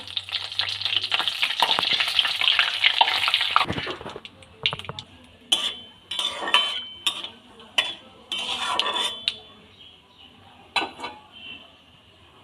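Whole cumin seeds and bay leaves hit hot oil for a potato dum aloo, bursting into a loud, close sizzle for a few seconds, then fading to quieter crackle punctuated by scattered clinks and scrapes of a utensil against the pan.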